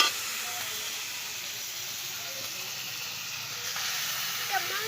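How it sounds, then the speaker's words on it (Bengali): Meat frying in a spiced masala in a village-style Bengali kitchen gives a steady, close hiss and sizzle that runs without a break and swells a little near the end. No one speaks over it. "মাংসটা একটু ভালো করে কষে নেব"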